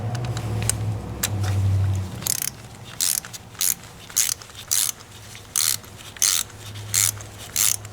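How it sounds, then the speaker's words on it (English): Quarter-inch ratchet with a 1/4 to 3/8 adapter loosening the spark plugs on a 2003 Lincoln LS 3.9L V8, giving a series of close, crisp ratcheting bursts in an even rhythm, each a short clicking run with brief pauses between. "So I got a 1/4 inch ratchet that has a 1/4 to 3/8 adapter."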